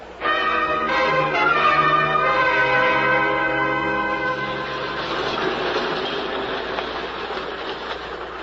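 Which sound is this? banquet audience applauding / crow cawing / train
train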